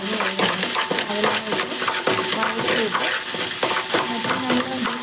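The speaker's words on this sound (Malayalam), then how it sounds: "എല്ലാം കൂടെ വഴറ്റി എടുക്കുക" Onions and a spice mix sautéed in a pan, a continuous close sizzle broken by repeated scraping and clinking strokes of a spoon stirring the pan.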